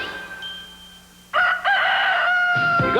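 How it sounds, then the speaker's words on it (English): A rooster crows loudly and close in a 1980s Kentucky Fried Chicken TV commercial. The crow is a drawn-out, strident call that stays strong to the end, with no talk over it. "I'm a crowing chicken."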